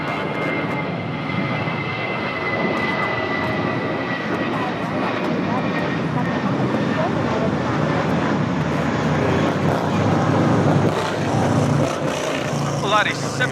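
An Airbus A320 takes off at Los Angeles International Airport with a loud, sustained jet engine roar that builds gradually, heard from nearby over a steady rumble, with a radio voice talking underneath.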